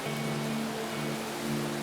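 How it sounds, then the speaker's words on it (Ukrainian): Steady rain falls outside in Ivano-Frankivsk as a continuous, even hiss with a low hum beneath it. It runs unbroken through the short stretch, with no voices. "поки я була у залі пішов дощ"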